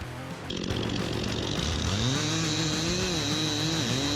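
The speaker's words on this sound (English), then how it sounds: "The chainsaw has a compact yet powerful design, with a gasoline or electric engine encased in a durable plastic housing" A gasoline chainsaw revs up and cuts into wood, its engine droning loud and close with a rising, wavering pitch as it bites through the timber.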